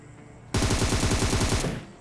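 Rapid automatic gunfire from a weapon in PUBG Mobile, a dense sustained burst of shots lasting over a second after a quiet stretch, loud and close.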